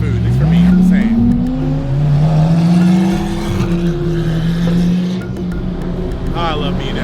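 A Lamborghini SVJ engine roars and rises in pitch as the car accelerates, loud and close for several seconds, with people talking over it.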